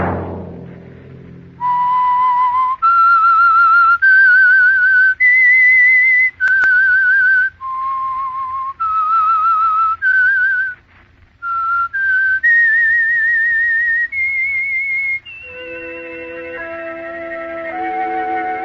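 A clear, loud whistled melody of sustained notes with vibrato, the theme tune of the 1947 radio drama The Whistler, played alone, ending as an orchestral chord swells in.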